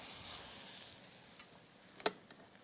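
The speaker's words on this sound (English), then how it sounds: "there's the sizzle I love. We're going to add the burgers." Steady, quiet sizzling of ground sirloin burgers frying in olive oil in a pan, a soft crackle throughout with one brief sharper pop near the end.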